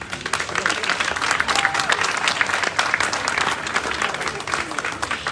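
Warm, sustained applause from a crowd at the Miss Lorraine beauty pageant, many hands clapping evenly and fairly loudly, with a voice faintly under it.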